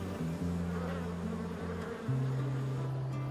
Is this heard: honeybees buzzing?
yes